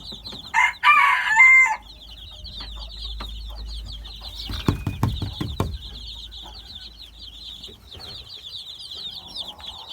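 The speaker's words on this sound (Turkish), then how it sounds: "Bakın burada bir sürü civcivimiz var." A hen crows and clucks loudly at the start, followed by constant high peeping of many chicks and some low clucking close by.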